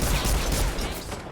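Shotgun blast and dense gunfire in a Fortnite build fight, a loud, continuous burst of shots filling the moment with no gaps.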